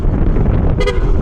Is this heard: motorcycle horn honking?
yes